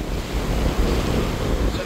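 Surf rolls onto a beach at Macassar beside a coastal fishing spot while strong wind gusts buffet the microphone, a dense, continuous, close roar of waves and wind with no voices.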